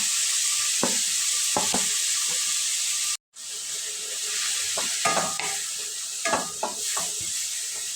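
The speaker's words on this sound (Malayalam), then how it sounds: "ക്യാരറ്റ് ഇട്ട് കൊടുത്തിട്ട് നമുക്ക് നല്ലോണം ഒന്ന് ഇറക്കി മിക്സാക്കി കൊടുക്കണം" Grated carrot fries in hot ghee with a steady sizzle, while a spoon scrapes and stirs it in short bursts. A brief gap falls in the middle.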